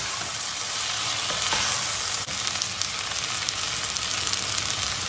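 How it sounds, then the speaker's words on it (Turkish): Washed red lentils stirred in a pot for soup, giving a steady soft sizzling, rustling hiss close up with a brief scrape midway and no voices. "Mercimeği kavurmayacağız. Sadece şöyle bir karıştıracağız."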